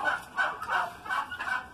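A hen turkey, an injured poultry bird, calls in a series of repeated honking yelps, about four close, loud bursts in quick rhythm, with no talking.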